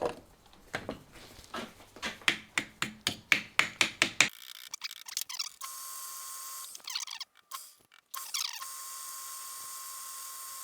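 Sharp, rapid tapping as a part is knocked onto the piston of a seized Stihl FS 260C line trimmer, a quick run of about a dozen close metallic-wooden taps, then quieter mechanical handling noise.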